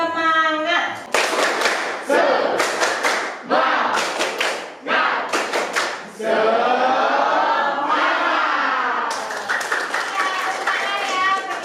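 A classroom of children claps out a rhythmic spirited clapping chant, bursts of quick claps alternating with shouted group voices, loud and close, repeated several times in a lively pattern.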